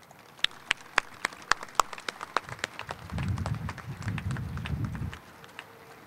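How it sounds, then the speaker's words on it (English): At an ROTC battalion commissioning ceremony, an audience welcomes an Army general. A few scattered claps build into a brief burst of dense crowd applause that quickly fades. "Please, if I could get a warm welcome and applause for General Shields."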